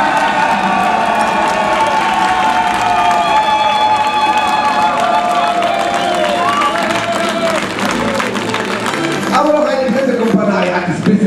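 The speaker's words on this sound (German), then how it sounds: "Grüßen wir mit einem kräftigen Jubel" A large crowd at a medieval knights' tournament cheers and applauds loudly and continuously, with whistles and shouts rising over the steady roar of clapping.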